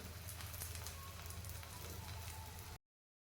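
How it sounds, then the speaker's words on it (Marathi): An onion paratha fries in hot oil in a pan, giving a steady, fairly close crackling sizzle that runs unbroken and then stops abruptly. "तेल छान गरम झालं आहे आता यामध्ये टाकूयात आपण पराठा आणि मस्त खरपूस होईपर्यंत हा पराठा आपण भाजून घेऊयात"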